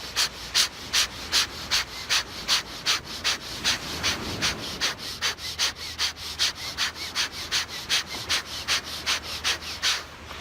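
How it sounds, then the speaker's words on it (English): A deep breathing exercise for a pre-workout energy boost, with quick forceful inhales and exhales repeating in a steady rhythm about twice per second, close and prominent with no talking. "Really focus on the inhale."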